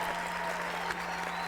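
A canned applause sound effect played on a game awards livestream, brief steady clapping with a faint hum running underneath.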